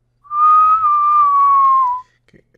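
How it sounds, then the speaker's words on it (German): A single person whistles one sustained, slightly wavering tone for about two seconds, loud and close, with no talking over it. "Ich kann nicht mehr pfeifen."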